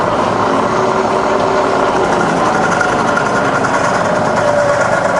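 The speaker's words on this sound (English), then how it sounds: "Hit the brake just to show it works, and then reverse, just as quiet in reverse." A fully rebuilt Bridgeport milling machine runs in reverse with a steady, dense mechanical hum and whir, loud and close, unchanging throughout with no speech.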